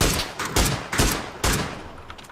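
Gunfire in PUBG Battlegrounds, four loud, sharp shots spaced about half a second apart, each leaving a ringing tail.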